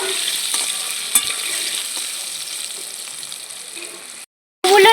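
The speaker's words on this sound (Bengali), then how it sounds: "আলুগুলো লাল করে ভেজে নেব" Potatoes with a little salt and turmeric fry in cooking oil. A steady, fairly loud sizzle runs nearly throughout with a stir or clink here and there, then cuts off briefly and returns louder at the end.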